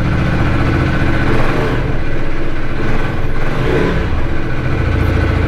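KTM Duke 250 motorcycle engine running steadily and fairly loud throughout, a continuous mid-pitched drone with a slight swell near the start and no speech.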